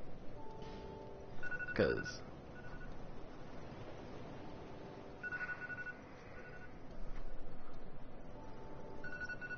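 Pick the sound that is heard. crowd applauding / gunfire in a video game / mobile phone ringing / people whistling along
mobile phone ringing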